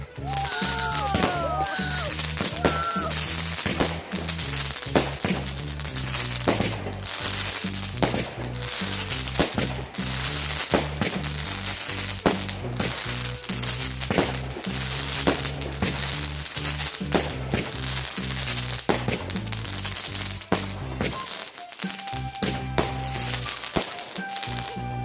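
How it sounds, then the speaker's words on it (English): Bonfire night fireworks burst and crackle in a rapid, irregular series of sharp loud bangs lasting over twenty seconds, with a brief lull near the end. "This must be a great fireworks shot."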